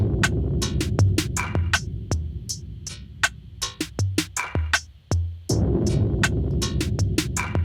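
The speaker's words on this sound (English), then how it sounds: "So these drums actually sound like this." A programmed drum loop from a beat plays back in Logic, with sharp, evenly spaced hits over a steady low throb, briefly dropping to sparse isolated hits before the full groove returns, loud and alone.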